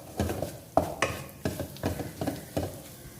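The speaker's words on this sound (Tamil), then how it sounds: "எல்லாத்தையுமே நல்லா எண்ணெயில் வதக்கிக்கலாம்" Spices and turmeric sauté in oil for a broccoli gravy while a spoon stirs the pan in about seven rhythmic scraping strokes, with a soft sizzle underneath, close and clear.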